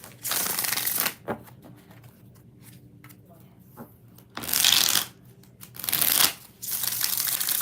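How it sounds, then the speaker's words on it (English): Tarot cards being shuffled in several bursts of crisp riffling and flapping, separated by quieter pauses, with a person talking softly in between. "Three more shuffles."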